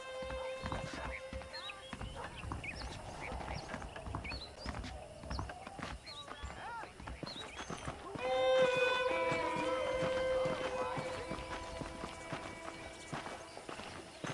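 Horse hooves clip-clopping steadily over light game music in Red Dead Redemption, close and moderately loud, continuing throughout.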